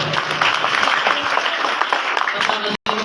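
Children clap together at a school prize-giving ceremony for students, a dense, steady round of applause with crowd noise that breaks off briefly near the end.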